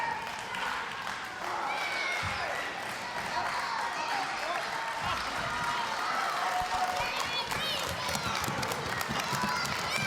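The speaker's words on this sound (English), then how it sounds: "Crowd trying to push him back to his feet" Wrestling crowd at an NWA Mountain State show clapping and cheering steadily throughout, a dense continuous roar of applause with voices mixed in at even loudness.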